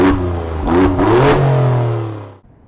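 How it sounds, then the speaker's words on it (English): Alfa Romeo Giulia Quadrifoglio, the Italian sports sedan, revving loud and close with a rising engine note that holds for about two seconds and then cuts off abruptly. "This is the brand new Alfa Romeo Giulia Quadrifoglio."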